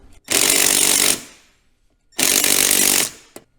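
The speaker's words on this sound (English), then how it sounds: "the nylock nuts are just a little bit too much for my M12 impact gun" Cordless Milwaukee M12 impact gun hammering on nylock nuts while removing a Ski-Doo Expedition tab hitch, two loud close bursts of about a second each separated by a pause, ending with a short tap.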